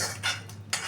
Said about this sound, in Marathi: आता मी या शेंगा असं डिशमध्ये ओतून घेते